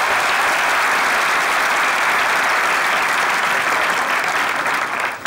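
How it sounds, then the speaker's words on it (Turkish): A studio audience on a Turkish comedy sketch show breaks into loud, sustained applause, a dense even roar of clapping that carries on for several seconds before starting to fade at the end. "Cemo ile Begüm'e bir alkış."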